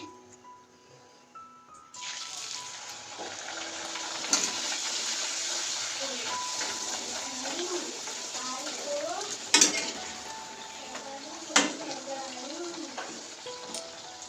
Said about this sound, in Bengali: লুচিটা ভেজে নিচ্ছি